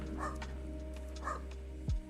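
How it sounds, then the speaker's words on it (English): Two barks from Chloe, a dog, somewhat distant in the room, about a second apart over a steady low hum, with a thump near the end. "You hear Chloe barking?"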